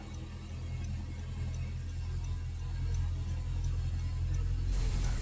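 A 2014 Honda Accord engine idles with a cylinder misfire, giving a steady low rumble with a faint ticking pulse throughout, slightly louder toward the end.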